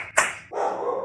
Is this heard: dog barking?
yes